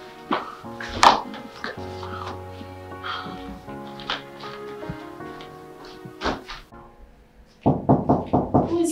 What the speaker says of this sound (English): why are you banging my door?